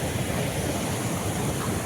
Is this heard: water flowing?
yes